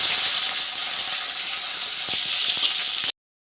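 Chopped shallots hitting a hot pan for kuzhambu give a loud, steady sizzle and hiss that holds for about three seconds and then cuts off abruptly.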